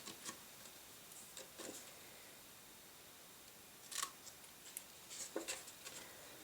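Scissors or a blade cutting two bias edges into the flap of a paper notebook, giving a few faint, sharp snips and ticks spaced irregularly across a quiet background.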